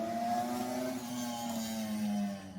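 A motorcycle engine drones past outside at a distance, its pitch sliding slowly downward as it moves away, a steady mid-level hum with no voices.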